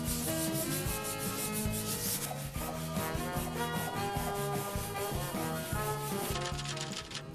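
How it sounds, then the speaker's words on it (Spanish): Sandpaper rubbing over painted wood furniture in rapid, continuous back-and-forth strokes, close and steady, with no voices. "Si lijamos más fuerte, sale la madera."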